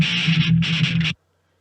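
Heavily distorted electric guitar dialed in for a particular album's tone, a chugging riff of palm-muted bursts with a brief gap midway, loud and close, then cutting off abruptly into silence.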